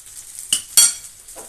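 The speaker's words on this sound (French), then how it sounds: "faut bien mélanger le blé" Butter-sautéed wheat stirred in a pan, with two short scraping, clinking strokes of a utensil over a faint sizzle, close and brief.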